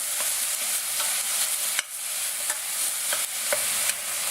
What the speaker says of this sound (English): Cook the mince until it's turned brown.